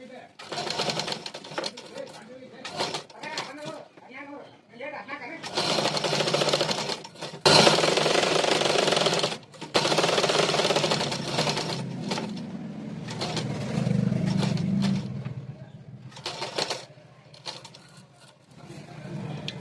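Sewing machine stitching the hem edge of a collar blouse in short and longer bursts, with someone talking between and over the runs of stitching.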